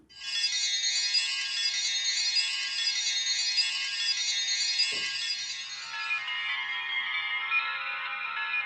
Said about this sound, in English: I'm going to use the Cork 1 wind chimes patch, but play it a little bit too low